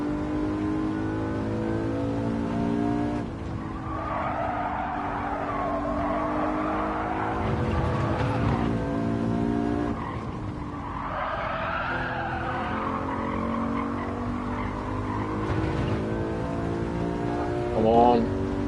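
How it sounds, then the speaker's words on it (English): Engine of a Lexus LC500 race car in Gran Turismo 7 at Watkins Glen, revving up and down through gear changes with squealing, skidding tyres, loud and continuous, with a voice talking over it. "Really need to get used to the car sounding quite different with this headset."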